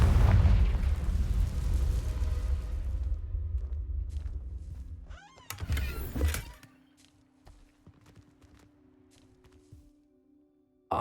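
A Confringo blasting spell goes off in the video game Hogwarts Legacy as a loud, rumbling explosion that slowly fades, followed by a second sharp burst and scattered lighter game sounds in quieter surroundings.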